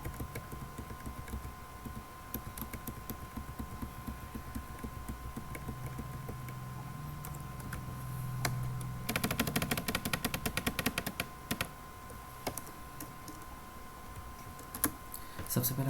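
Computer keyboard keys are pressed in scattered clicks, then a dense rapid burst of tapping in the middle, over a quiet steady hum.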